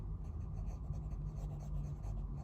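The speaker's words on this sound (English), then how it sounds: "Okay, let's do a little writing here. Now I have Rhodia 80 GSM paper here today," An Endless Captiva fountain pen with a medium nib writes on Rhodia 80 gsm paper, giving a soft, close, continuous scratching of nib on paper with small strokes and pauses.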